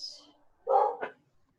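A couple of short dog barks close by, one fuller bark followed quickly by a sharper yip, with a faint bird-like chirp just before.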